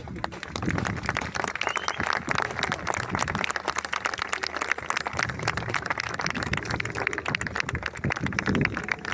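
An audience at a D-Day landing commemoration applauds the veterans and re-enactors with sustained, dense clapping that holds steady for the whole stretch, close and full.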